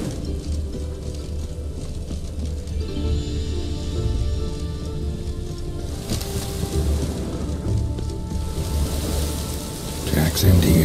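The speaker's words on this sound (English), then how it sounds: "Looks like rain." Rain falls steadily in the video game The Witcher 3, a continuous soft hiss of drops on the ground that holds across the whole stretch with low rumbling ambience beneath and a brief louder swell near the end.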